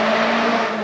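A Ferrari 308 GTB with four twin carburetors roars loudly and continuously inside a tunnel, a dense, echoing engine blare lasting under a second with no voices.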